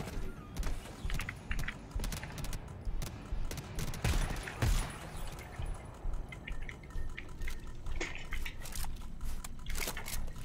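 Gunfire in the co-op shooter GTFO, a steady run of sharp, close bursts and shots, some with a shotgun-like blast, in rapid irregular rhythm throughout with no talking.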